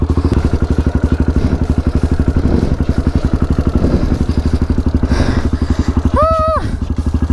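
A motorcycle engine revs hard and close in a steady pulsing drone as the rear wheel spins and slips in mud, with brief clatters and a rising horn-like tone near the end.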